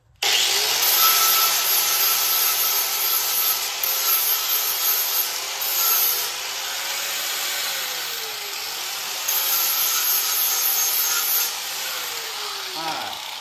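A metal cab mount spacer for a 1970 C10 is ground clean before welding, a continuous, loud abrasive grinding that wavers in pitch and runs for several seconds.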